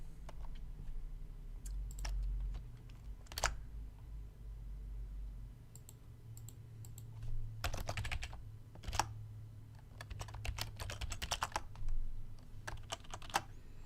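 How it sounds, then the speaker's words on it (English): Computer keyboard typing sits close to a microphone, with bursts of rapid key clicks and a few louder single taps over a low background hum. "Try not to type too loud. My microphone's right next to my keyboard."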